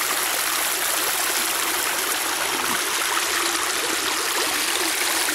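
Cane Creek in Cherokee County, South Carolina flows in a steady, close, even babble and trickle of water running over its bed, alone with no voices.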